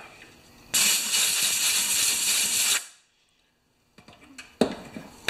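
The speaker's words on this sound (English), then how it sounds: "Blow a little air on that." A loud, steady blast of compressed air hisses for about two seconds onto the cracked gas tank of a 1968 Homelite XP1020 chainsaw, then cuts off into near silence broken by a few small knocks and clicks.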